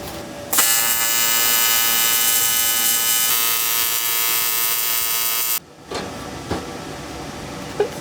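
A welder tack welds on an old scrapped truck being built into a tiny home, giving one loud steady electric buzz for about five seconds that cuts off abruptly, followed by faint clinks.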